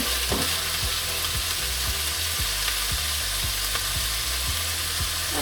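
Meatballs and halloumi fry and sizzle steadily in a pan, with a spoon scraping and stirring in a regular rhythm under a constant hiss, close and alone with no voices.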